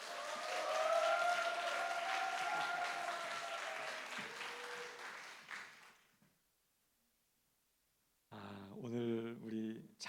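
A church congregation at a Sunday worship service applauds to welcome the pastor to the pulpit. The warm, dense clapping lasts about six seconds and fades into silence, then a voice begins speaking.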